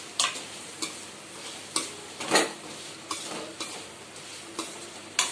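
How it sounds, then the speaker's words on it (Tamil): Fried crab stirred into a masala mixture in a pan for crab pickle, crisp scraping strokes at a steady rhythm over a faint sizzle, close and clear with no talking. "இப்போ வறுத்து வச்சிருக்க நண்டை இந்த மிக்சர்ல கொஞ்சம் கொட்டி கலந்துருங்க"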